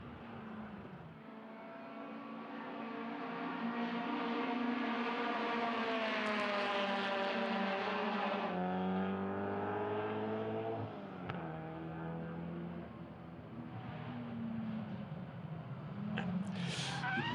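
Caterham Super Seven race cars at full throttle on a circuit, engines wailing and climbing through gears, a loud continuous roar with overlapping cars passing and shifting.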